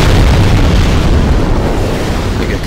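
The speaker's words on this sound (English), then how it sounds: "We get completely destroyed by exploding barrels." Barrels exploding in Demon's Souls in the Stonefang Tunnel, a loud, sustained deep rumbling blast with a crackling tail that fades gradually over a few seconds, with no voices.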